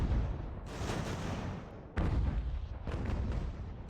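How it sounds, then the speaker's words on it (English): Cannons fire canister shot on a field battle in Ultimate General: American Revolution, with two deep booming blasts about a second apart over a continuous rumbling roar of distant battle. "Oh, canister shots right in there."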